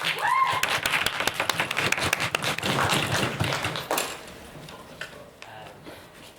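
Applause for debate finalists in a hall, a crowd clapping in a dense burst of sharp, close hand claps that thins out after about four seconds into scattered claps.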